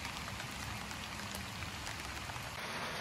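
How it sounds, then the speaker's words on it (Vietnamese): Heavy rain pours steadily outdoors during riverside catfish fishing, a dense, even hiss of drops striking surfaces throughout, close and loud with no voices. "Trời mưa quá trời luôn mọi người."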